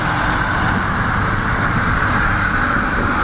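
A heavy lorry rumbles by close at hand, a steady loud roar of engine and road noise with no voices.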